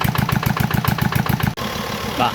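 A small engine powering a water pump propeller at a shrimp pond runs close by with a steady, chugging rhythm of quick pulses, then its tone shifts abruptly partway through and carries on rougher.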